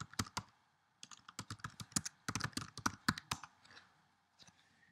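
Rapid bursts of keystrokes on a computer keyboard while logging into a web-based business process application, clicking in quick irregular runs with short pauses, close and clear with no talking.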